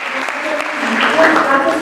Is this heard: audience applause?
yes